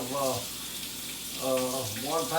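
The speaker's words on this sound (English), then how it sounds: "we're going to start by washing the hands" Hands washed under a running kitchen tap: a quiet, steady hiss of flowing water continues throughout, partly under short bursts of a person talking.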